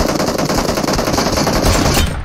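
Loud, close machine-gun fire in a mobile shooter game, a rapid unbroken burst of shots running the whole moment before tapering off at the very end.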